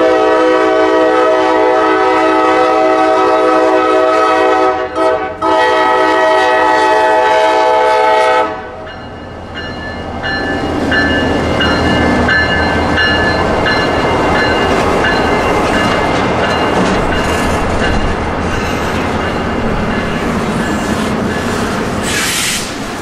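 QO32 freight train passing on the line, opening with a long, loud multi-tone horn blast that cuts off after about eight seconds, followed by a continuous rumble and rattle of rail cars rolling by close.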